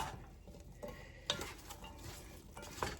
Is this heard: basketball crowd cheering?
no